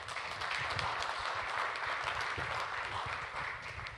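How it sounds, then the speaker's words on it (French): An audience applauds at a televised French sports discussion, with a continuous, even wash of clapping throughout at moderate loudness. "Je vous demande donc d'applaudir Philippe Vinogradov"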